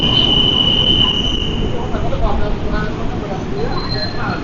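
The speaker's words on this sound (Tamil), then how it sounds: "ட்ரெயின் வந்துருக்கீங்க, ஜுவாண்டா ட்ரெயின்." Jakarta commuter train pulling into a busy station, a loud steady rumble of wheels and carriages with a high wheel squeal running through it, while people talk over the noise.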